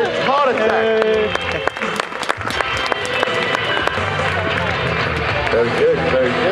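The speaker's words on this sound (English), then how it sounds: "a round of applause for John Elliott with a heart attack" An audience claps and cheers at an extreme stunt show, the applause running under a loud amplified announcer's voice and music-like tones, with a busy, crowded outdoor feel throughout.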